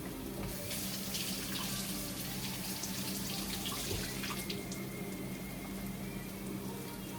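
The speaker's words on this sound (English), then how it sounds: "just run them through the water quick" Running tap water splashes steadily over freshly picked San Marzano and Roma garden tomatoes being rinsed at a sink, a continuous close hiss and patter with small shifts as the tomatoes move through the stream.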